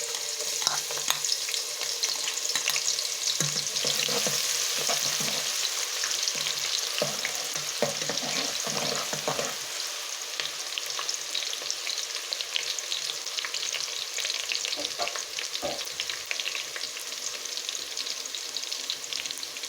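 Sliced onion frying in hot ghee in a pot, a loud continuous hiss with clattering stirring for the first half, then the sizzle carries on mostly alone with occasional scrapes.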